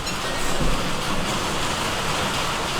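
Steady rain drums on a motorcycle top box fitted to an Africa Twin parked outdoors, a dense continuous patter with no talk.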